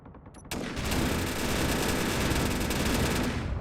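Turret gunfire in Space Engineers: after a short quiet lead-in, a loud, unbroken stream of rapid automatic shots that keeps going to the end.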